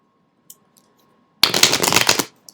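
Tarot cards riffle-shuffled in one dense burst of rapid papery flutters lasting about a second, close and fairly loud, after near silence with a couple of faint ticks.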